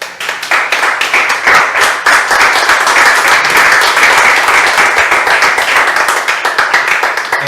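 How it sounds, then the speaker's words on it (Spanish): A church congregation applauds during a sermon, a loud, dense burst of many hands clapping that runs steadily for several seconds without letting up. "Que le da un aplauso al Señor."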